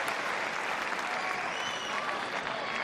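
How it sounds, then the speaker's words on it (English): Tennis crowd applauding steadily at Roland Garros 2009 during Federer vs Haas, a dense, sustained clatter of many hands filling the stadium without pause. "Just hear the crowd, can't you? Willing Federer to get back into this one."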